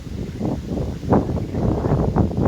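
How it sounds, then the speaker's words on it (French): Strong wind gusting outdoors, a steady low roar with broad surges swelling and easing every second or so, loud and close as it buffets the microphone, with no talk over it. "Le vent souffle très fort."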